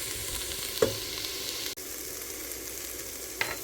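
Split pea soup ingredients browning in a pot give off a steady, soft sizzle close by, with a couple of faint clinks from a utensil and no speech.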